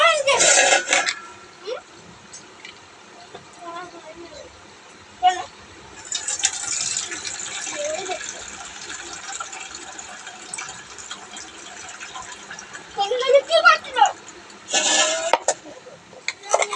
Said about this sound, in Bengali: তো চালেতে এখন তো দেখেছেন কত নোংরা থাকে, 2-3 বার না ধুলে পরে হয় না।